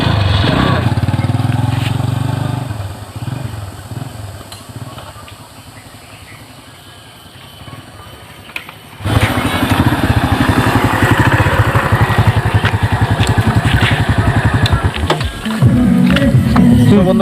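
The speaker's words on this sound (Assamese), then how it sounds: "তো বাইকটো একবাৰ মই চলাই চাইছোঁ।" A second-hand motorcycle engine runs loud and close, then fades as it rides away, and a few seconds later returns with a steady nearby rumble, a rough mid-range throb continuing to the end.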